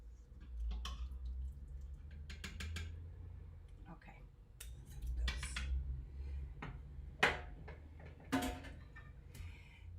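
A metal spoon clinks and scrapes inside a pot of Cuban black beans, fishing out green pepper pieces, with scattered sharp taps and scrapes over a low hum and quiet talk.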